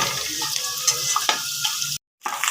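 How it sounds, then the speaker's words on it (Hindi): Papad frying in hot oil gives a close, steady crackling sizzle with a brief dropout near the end; no voices. "हमारे ये जो पापड़ है ना ये बहुत अच्छे से फ्राई हो रहे हैं।"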